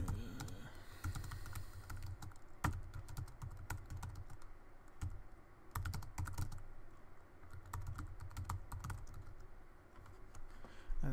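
Typing on a computer keyboard while entering an email address, with a steady stream of close key clicks over a low room hum and no voices.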